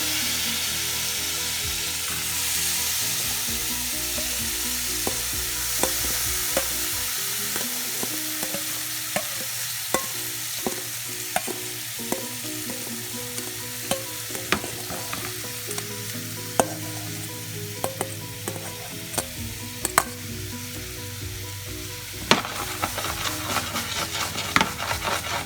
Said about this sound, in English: We saute our onions.